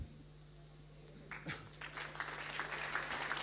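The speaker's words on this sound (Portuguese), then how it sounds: "Bem merece esses aplausos." Applause starts after a quiet moment and builds into steady, moderately distant clapping from a crowd at a sports awards gala, over a low constant hum.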